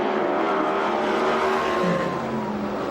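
USAC/CRA sprint cars race on the Perris, California dirt track, their engines roaring loud and continuous in a steady, droning pack with no break.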